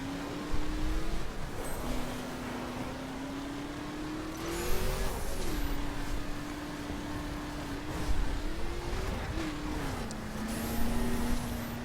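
A 1969 Chevrolet Camaro RS engine accelerates in The Crew racing game, a steady droning growl that dips briefly at each gear change, with occasional tire noise over the top.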